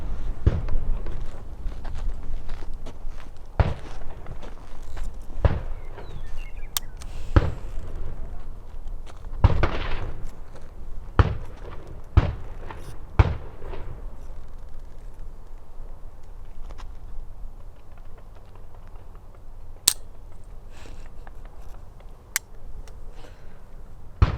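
A Grizzly Bear derringer pistol fires loud, sharp reports, spread as several separate bangs across the recording against a steady background rumble, with no talk.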